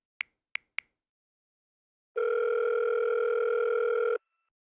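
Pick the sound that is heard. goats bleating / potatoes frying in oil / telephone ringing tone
telephone ringing tone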